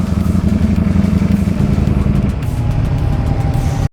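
A motorcycle riding and accelerating near Sigulda during an end-of-season moto ride, a loud steady engine drone with rising revs and wind rush, no talk.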